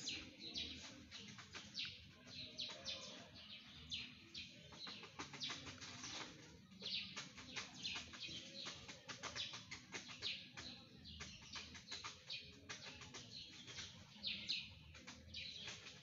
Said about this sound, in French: Je parle aux oiseaux, oui.